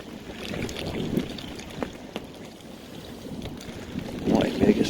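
Strong wind from Storm Ciara buffets the microphone at a carp-fishing spot, a steady rushing roar with gusts swelling toward the end.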